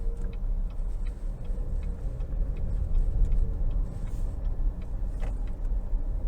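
A 2023 Cadillac XT6 Sport in all-wheel drive mode takes a few corners, heard from inside the cabin as a steady low engine and road hum with faint ticking, quiet and unbroken, no one speaking.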